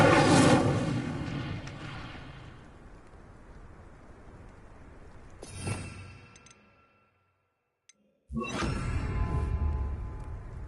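Incendio fire spell cast in Hogwarts Legacy: a roaring burst that fades out, a second whooshing blast, a brief silence, then another loud fiery eruption.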